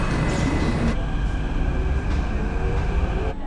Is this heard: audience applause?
no